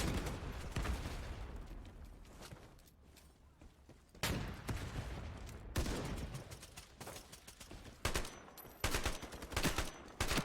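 Rapid gunfire rattles through a competitive bomb-plant video game match, with bursts of shots coming in clusters and sharp fresh volleys near the end, fairly quiet overall.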